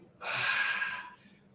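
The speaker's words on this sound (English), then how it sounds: "Notice the breathing." A single heavy breath during a workout exercise: one forceful exhale of about a second, close and fairly quiet, rising sharply and then fading, with no talking.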